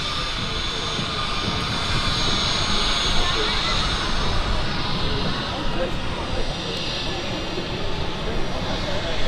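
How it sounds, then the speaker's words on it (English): An Etihad Boeing 787-9 Dreamliner on approach to land at Manchester Airport, a continuous broad jet roar with a thin high whine, heard steadily at moderate distance while people talk. "Look, that's the Etihad coming in."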